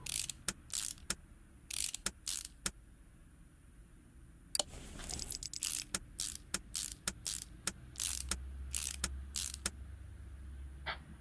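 Repeated ratcheting clicks and creaks of a wrench tightening engine parts in the video game Car Mechanic Simulator 2018, coming in short bursts separated by pauses, with a brief mechanical whir midway.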